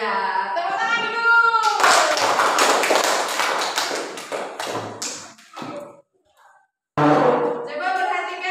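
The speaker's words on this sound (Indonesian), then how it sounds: "Iya, tepuk tangan dulu." Children in an Indonesian classroom clap their hands in a dense, quick burst lasting a few seconds. A teacher's voice speaks before and after the clapping, and a short quiet gap follows the claps.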